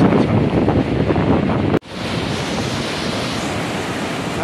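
The flooded Tinau river at Butwal surges after three days of continuous rain, a loud, steady roar of rushing water, like wind-blown surf, that cuts out for a moment and then resumes.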